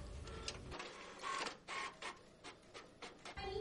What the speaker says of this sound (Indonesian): Kita juga dapat mencetak teks atau dokumen tersebut dengan printer.